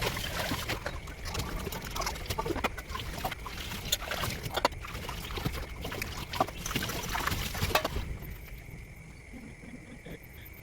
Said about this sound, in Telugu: ఇప్పుడైతే సౌండ్ రాకుండా మెల్లగా అయితే బాల్స్ వాష్ చేసుకుంటా.